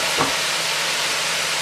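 Ground onion frying in hot ghee with roasted cumin over a high flame, giving a steady, close, hissing sizzle that holds evenly throughout.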